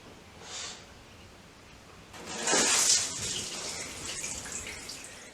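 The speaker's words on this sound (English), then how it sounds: "And then we're just going to hose that one off as well" Water hosed onto a pane of shower glass during restoration cleaning, a faint brief spray early on and then a louder hissing splash that washes across the glass and trails off into a softer steady patter.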